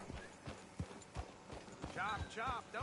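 Horse hooves clip-clop at a steady walking pace in the Western town of Red Dead Redemption 2, close and clear, while game characters talk over the hoofbeats.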